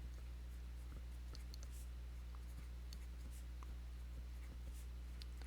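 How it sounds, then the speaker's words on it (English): Numbers being written on a board during a math lesson make faint, scattered taps and scratches of a marker over a low steady room hum. "that won't take me that long to write here"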